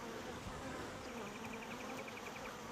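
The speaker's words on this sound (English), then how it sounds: "Those have a lot of bees on them." Honeybees on frames lifted from an opened Flow Hive during an early spring hive split, a steady close buzzing hum throughout with a faint higher whine over it.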